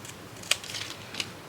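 Two quick snips of scissors cutting through paper, close and crisp, with faint rustling between them.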